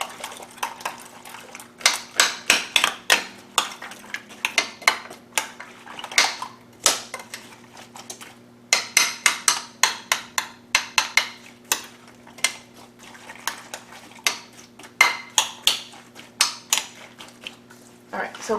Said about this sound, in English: You just beat it up, mix it around with the corn, mix it around with the eggs.